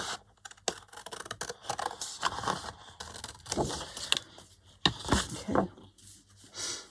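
Scissors snip through lace paper from an old paper pad during a craft project, a run of close, irregular short cuts and rustles with no talking.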